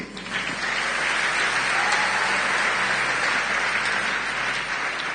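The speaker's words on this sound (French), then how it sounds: "Acclamons Jésus" A church congregation applauds Jesus during a French-language service, dense steady clapping from a large crowd filling the room at even loudness throughout.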